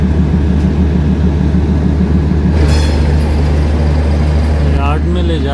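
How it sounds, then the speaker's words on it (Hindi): Rake of the New Delhi–Dibrugarh Town Rajdhani Express moving slowly toward the yard for washing, a steady loud low rumble of rolling coaches with rhythmic wheel clatter, brief squeals near the end, and someone talking over it. "ये न्यू दिल्ली डिब्रूगढ़ टाउन राजधानी एक्सप्रेस का जो रेक है वो यार्ड में लेके जाया जा रहा है वॉशिंग के लिए"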